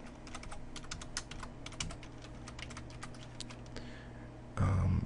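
Rapid, steady keystrokes on a computer keyboard as an SQL query is typed, close and fairly quiet, running alone with a short louder thump near the end.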